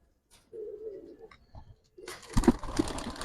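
Domestic flying pigeons coo softly in a low, steady murmur, then burst into loud, close wing flapping that fills the last second.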